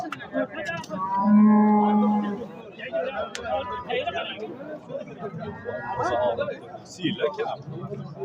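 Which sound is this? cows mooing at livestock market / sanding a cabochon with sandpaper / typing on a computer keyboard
cows mooing at livestock market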